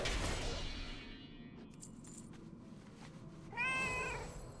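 A vocal cat meows loudly from another room, a drawn-out wavering cry near the end heard over steady background hum and faint game sounds.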